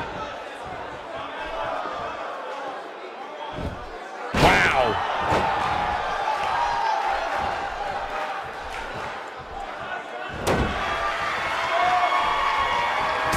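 Arena crowd noise in the WWE 2K18 wrestling video game, a continuous roar under commentary, punctuated by two sharp slams from the ring.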